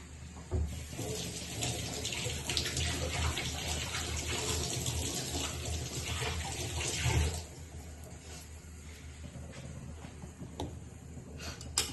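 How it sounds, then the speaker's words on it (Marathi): Running tap water splashes steadily over two peeled onions being washed in a kitchen sink, a continuous broadband rush that eases somewhat after the first several seconds, with no talking. "कांदे धुवून घेऊयात."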